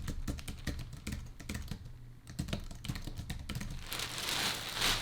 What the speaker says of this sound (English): when you're typing your password